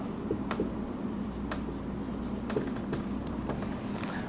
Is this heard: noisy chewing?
no